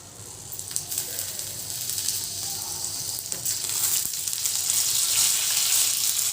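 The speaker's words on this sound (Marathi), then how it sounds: "इथे आता आपण थोडंसं तेल टाकून त्या अजून परतून घेऊया" Green chillies frying in a little oil in a pan for mirchicha kharda, an even crackling sizzle that grows gradually louder over several seconds, close up and without talk.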